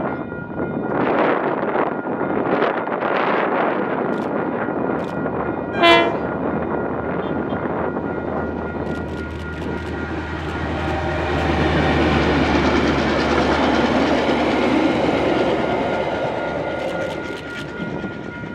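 A KiwiRail DBR 1254 diesel locomotive of Glenbrook Vintage Railway rumbles past in New Zealand with a heavy, steady engine drone and rattling wagons, a brief horn-like tone near the start, building louder toward the end.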